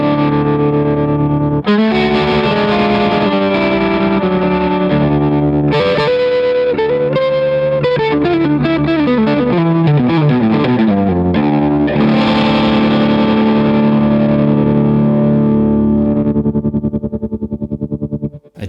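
Electric guitar through an AS Pedals Tremuntana tremolo pedal at its fastest speed with reduced depth, playing loud sustained chords and runs with a fast, shallow warble throughout, close and alone with no talking.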